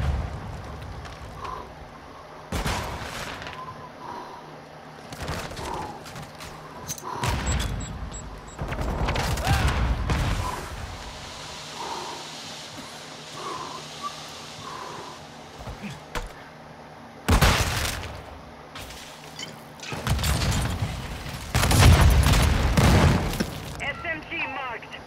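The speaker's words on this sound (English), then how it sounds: "I'm gonna shoot my own guys." Bursts of automatic gunfire from the video game Call of Duty: Modern Warfare II crackle in loud clusters separated by quieter stretches, with players talking excitedly over the action.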